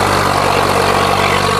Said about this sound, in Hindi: तो भाइयों देखिए ट्रैक्टर की डेमो